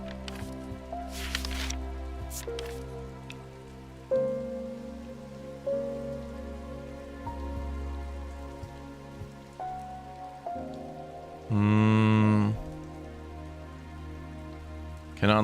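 Steady rain falling in the shop simulator game Strange Antiquities, a constant soft patter under gentle tonal game music, with a brief rising chime partway through and no voices.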